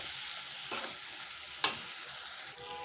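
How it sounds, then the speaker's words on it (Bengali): Tomatoes frying with spices in a pan for egg curry give a steady close sizzle, with a few short stirring scrapes and one sharp clink of a spoon partway through. "এবার টমেটোটা দিয়ে দিচ্ছি, টমেটোটাও দিয়ে ভালো করে কষে নিচ্ছি।"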